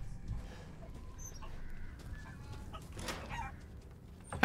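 Chickens cluck in the farmyard of the video game Resident Evil Village, several short, fairly faint clucks scattered over a low ambient background, with a louder burst at the very end.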